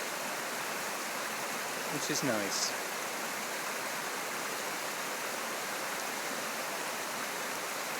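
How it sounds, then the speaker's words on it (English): A river running through a campsite on the last night of a trip, its steady broadband rush continuing unbroken throughout, with a voice briefly speaking over it partway through. "This is the river going through our campsite"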